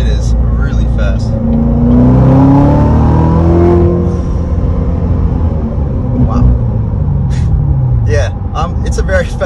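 A fast sports car with auto rev matching is revved hard on the gas, its engine note rising and falling in loud sweeps close by, followed by fainter sharper sounds near the end.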